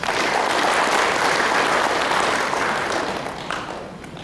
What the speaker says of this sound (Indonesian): Tepuk tangan untuk Bapak Ibu sekalian.